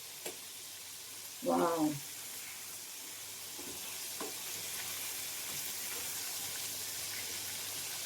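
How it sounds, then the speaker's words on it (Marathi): Thick, tiger-like prawns frying in oil over a low gas flame give a steady, soft sizzle that runs the whole time, and a voice briefly exclaims near the start. "तेलात सर्व सोडून झालंय, गॅस पण मी मंद ठेवलाय."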